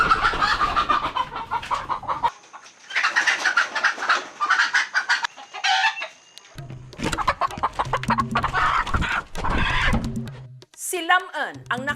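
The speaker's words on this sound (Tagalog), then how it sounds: "maaga pa lang nang huhuli na siya ng manok" Chickens squawk and cluck in agitation as they are caught early in the morning at a rural inn for tinola, a voice narrating over the close, repeated bursts of fowl calls.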